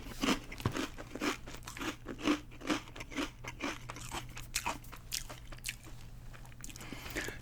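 Sour cream and onion potato chips, ridged, crunched and chewed up close in a quiet room, a rapid series of crisp bites and crackling chews repeating throughout.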